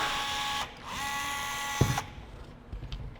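A rivet gun works in a metal shop, with a whirring mechanical buzz that stops and resumes, then a sharp snap as the rivet sets, followed by quieter clicks.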